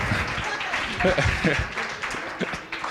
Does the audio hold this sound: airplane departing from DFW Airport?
no